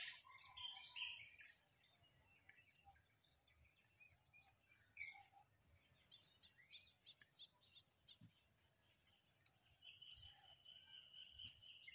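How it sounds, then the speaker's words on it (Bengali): In rural paddy fields, a bird's call sounds over a dense, constant chorus of insects, faint and distant, with scattered chirps rising above the steady buzzing, no talking. "শুনছেন, মনে হয় যে আপনারা যে একটা পাখি কি সুন্দর করে ডাকতেছে।"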